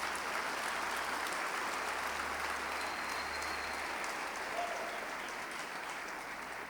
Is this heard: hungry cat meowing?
no